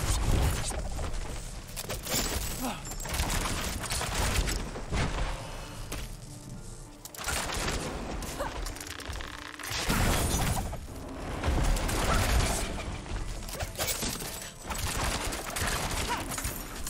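A dense volley of sharp arrow impacts and shots from Diablo 4, loud and continuous, with thuds and crashing bursts layered over a busy background.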